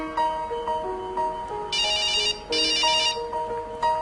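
A cell phone rings inside an explosion test chamber, a repeating electronic ringtone melody with bright tonal bursts, moderately loud and alone.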